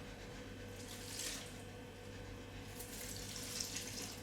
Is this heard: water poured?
yes